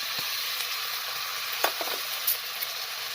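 Chicken breast stir-frying in a pan, a steady sizzle broken by a few sharp scrapes and clinks of the spatula being stirred through, close up with no talking.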